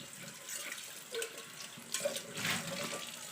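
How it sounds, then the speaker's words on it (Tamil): Water runs from a kitchen tap as dishes are rinsed, with soft splashing and brief clinks of utensils, faint and close. "இந்த பாத்திரம் எல்லாம் தேய்ச்சாச்சுங்க. ஃபுல்லாக கழுவி வச்சிடலாம்."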